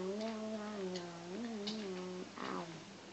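A cat in the Minecraft video game gives a drawn-out meow, then a second shorter cry, clear and fairly close against a quiet background, with no talk.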